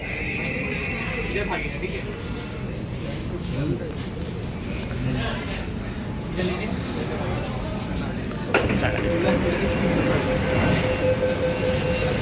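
A Kolkata metro train runs through the tunnel beneath the Hooghly river with a loud, continuous rumbling roar and rattle that steps up in intensity partway through and never lets up.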